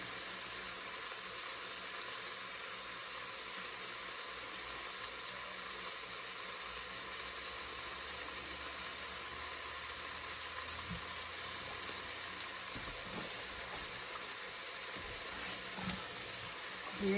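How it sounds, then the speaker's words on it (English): Garlic sautéing in a pan for boeuf bourguignon gives a steady, close sizzle that holds evenly throughout, with a few soft utensil knocks near the end. "I'm just gonna saute it for about 1 minute"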